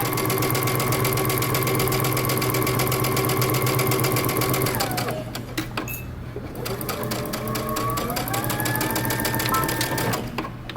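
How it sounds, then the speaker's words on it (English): A home sewing machine stitches the shoulder seam of a bomber jacket with a 5/8-inch seam allowance, running in a steady close whir that pauses briefly midway, then resumes with a few short bursts. "Now using 5/8 of an inch seam allowance, we're going to stitch across our shoulder."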